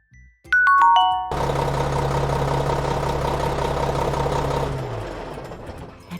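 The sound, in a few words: truck engine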